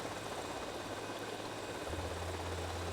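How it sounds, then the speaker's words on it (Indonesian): A helicopter engine in GTA Vice City drones steadily with a close low hum and broadband rotor hiss, no voices, a lower engine tone settling in partway through. "Helikopterku yang kusayangi, ayo cepat dong jalannya. Lama banget sih helikopter."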